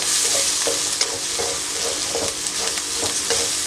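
Frying tomato masala over a medium flame, a spoon stirring in quick regular scrapes over a loud, steady sizzle, up close with no voices.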